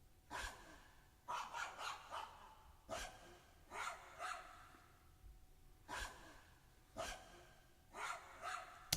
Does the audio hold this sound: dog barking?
yes